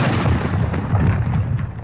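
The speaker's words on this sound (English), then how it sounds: "The nameplate of the bone I nominate before this cannon goes off." Cannon in the Anatomy Arcade Whack-A-Bone game, a loud, rumbling low boom that fills the moment with sustained, dense blast noise.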